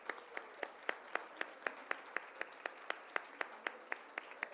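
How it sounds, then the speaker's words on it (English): An audience at a Hispanic Heritage Month celebration applauds parents, faint and distant, with sparse sharp claps in a loose, fairly regular rhythm over a quiet room. "Let's give them another round of applause."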